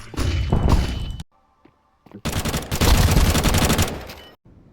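AK rifle fire in Counter-Strike comes in two loud, dense bursts of rapid shots separated by a brief near-silent gap, each burst dropping off sharply.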